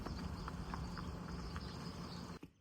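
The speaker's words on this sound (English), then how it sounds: "I wonder if Fidel's gonna name this horse." A horse walks at an even pace on an outdoor rural property in Mexico, its soft hoof clip-clops landing in a regular rhythm, faint and a little distant over a steady insect or cricket drone before a sudden bump at the end.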